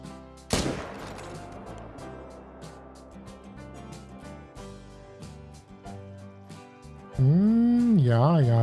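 A single sharp rifle shot rings out in theHunter: Call of the Wild, loud and close with a long fading echo over quiet ambience, then tonal game sounds rise near the end.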